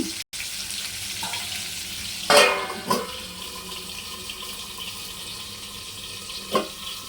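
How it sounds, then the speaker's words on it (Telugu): Fish fries in a pan covered with a plate lid, producing a steady soft sizzle. A few brief clatters and bumps sound close by, with no talk. "ఇలా చేప ఏగుతూ ఉండగా మనం పళ్ళెం పెట్టి మూత పెడదామండి"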